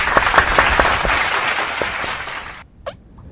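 A short burst of clapping and applause fades out, followed by one sharper lone clap.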